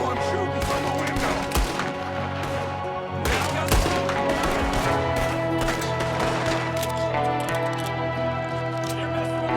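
Gunfire rings out during a Red Dead Redemption 2 shootout, a handful of sharp cracking shots scattered over a droning musical score, heard at mid distance.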